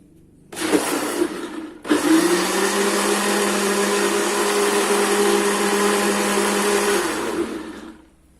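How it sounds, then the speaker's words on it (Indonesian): An electric blender grinds sate ambal sauce with added water. After a short burst and a pause, it runs at a steady, loud whir for about six seconds, then winds down. "Lalu kita haluskan kembali."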